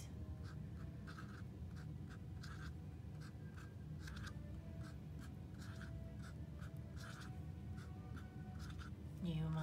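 A pen or pencil scratches fractions onto paper in short repeated strokes, quiet and close, with soft background noise and a brief louder bump at the very end.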